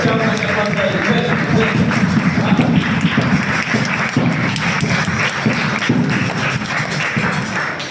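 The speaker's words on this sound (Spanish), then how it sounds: "Un aplauso, hermano, Señor." A church congregation at a Sunday acoustic service breaks into loud, sustained applause, a dense wash of clapping that fills the whole stretch without pause.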